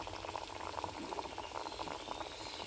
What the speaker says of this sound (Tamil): இப்போ எண்ணெய் காஞ்சிருச்சு நம்ம ஒரு ஒரு பிஸ்கட்டாக போட்டு அதில் பொரிப்போம்